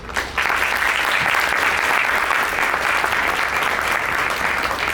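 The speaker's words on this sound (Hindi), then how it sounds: "तो जोरदार तालियों से कलाकारों का उत्साह बढ़ाइए।" A theatre audience breaks into loud, sustained applause for the actors before a stage play begins, a dense wall of clapping that starts abruptly and continues steadily throughout.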